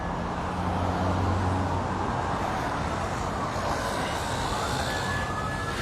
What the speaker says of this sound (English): I'm going to wait for these fire trucks to go by, if they're going to come by here. It looks like they are, the ambulance.